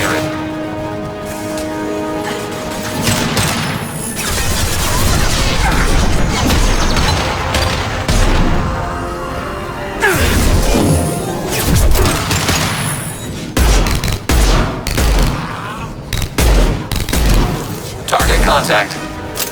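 Mass Effect 2 Legendary Edition combat on Omega with repeated loud bursts of gunfire, booms and mechanical clanks, with voices talking over the fighting throughout.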